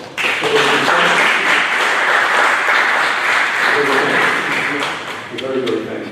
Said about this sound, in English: Give our veterans another round of applause.